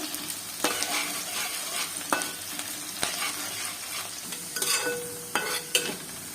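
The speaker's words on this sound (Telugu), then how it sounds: "బాగా ఎర్ర వేయేంత వరకు వేయించుకుందాము" Onions fry in oil for a mutton curry, with a steady crackling sizzle and sharp stirring scrapes against the pan at irregular intervals. No one speaks.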